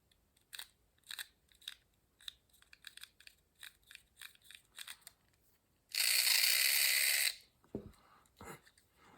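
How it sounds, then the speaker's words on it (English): A small Auto World slot car chassis gives off a series of light, irregular clicking rattles, followed by a brief loud burst of whirring motor noise, then a few faint clicks, all close up with no talking. "Well, I got a rattle in there."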